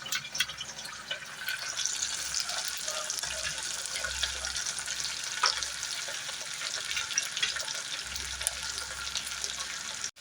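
Okra, onion and curry leaves fry in hot oil with a steady, dense sizzle that runs the whole time, broken by a few scrapes of stirring and no talk.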